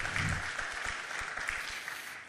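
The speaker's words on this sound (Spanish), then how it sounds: "Dele aplauso al Rey, porque Él es juez justo" Church congregation applauding together, a short burst of dense clapping throughout with faint voices mixed in.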